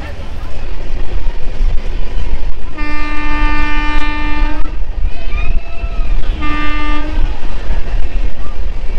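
A passenger train running on the journey from Siliguri to Puri: a loud continuous rumble and rattle of the carriages, broken by two long horn blasts, the second shorter than the first.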